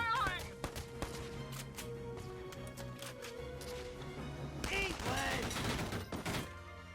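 Gunfire bursts in the strategy video game Valkyria Chronicles 4, several short sharp volleys over layered game music and effects, mid-loud, with a voice talking over the action.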